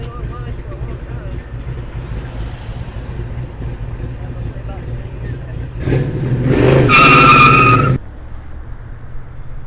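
A classic muscle car engine revs hard as its Mickey Thompson slicks spin and squeal on the pavement, a loud roaring burst of a few seconds amid a noisy crowd.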